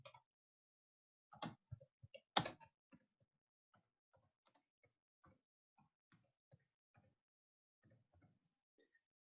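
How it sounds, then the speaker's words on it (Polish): Computer keyboard keys are pressed in short clusters of sharp clicks, some close together and others spaced out, fairly quiet and close with near silence between them. "wciskamy prawy przycisk Alt na klawiaturze i literę E"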